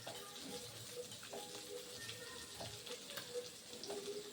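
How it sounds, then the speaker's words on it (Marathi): Kaul fry, a special party dish, sizzles while being cooked for a Ganpati festival gathering in a Konkan village, a faint, steady frying hiss with soft bubbling and occasional stirring sounds. "मस्त अशी कौल फ्राय अक्षय करतोय"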